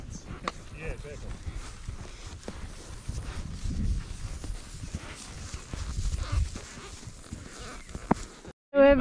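Horses walk along a backcountry trail on a New Zealand trek, two loose horses tagging along with the ridden ones, hooves clopping softly and irregularly beneath ongoing talk from riders.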